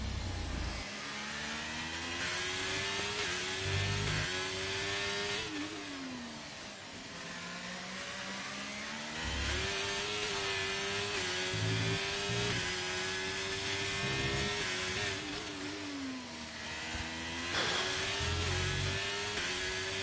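Racing car engine in a Brazilian Grand Prix lap of a racing video game, revving high and steady with repeated gear shifts and downshifts as it brakes and accelerates through corners, loud and continuous with no talking.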